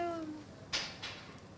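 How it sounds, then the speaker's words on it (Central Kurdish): A cat at the door gives a brief, faint, falling meow, followed by a couple of soft muffled bumps over quiet room noise. "پشیلە بوو؟"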